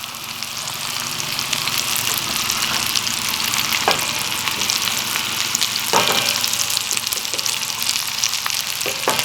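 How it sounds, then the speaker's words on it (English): Breaded fish fillets seasoned with garlic, salt and Creole seasoning sizzle steadily in a frying pan, a loud continuous crackle with a few sharper pops and spatters, no talking. "And we're just going to pan fry it"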